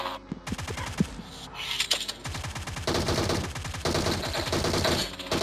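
Rapid bursts of video game gunfire in PUBG Mobile, aimed at a motorcycle tyre; repeated volleys crackle fairly loud and close over a steady engine drone, clustering into dense stretches with brief gaps between them.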